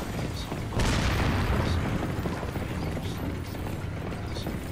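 A dynamite blast in the Resident Evil 4 video game: a deep, loud boom rolls out about a second in and rumbles on under steady game noise, with no talk.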